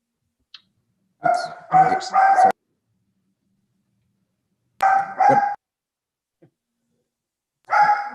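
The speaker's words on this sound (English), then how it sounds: "my dog's barking" A dog barks in three separate bursts, fairly close and loud, with gaps of silence between them and no talking over the barks.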